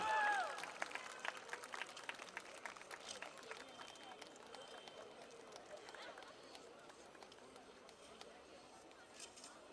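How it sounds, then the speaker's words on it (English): Audience at a JG Colleges graduation ceremony applauds the first-ranked law graduate, a steady, distant wash of many clapping hands over crowd murmur, loudest at the start and slowly fading. "A big round of applause for the first ranker of JG Institute of Law, Iyer Ambrish Venkatraman"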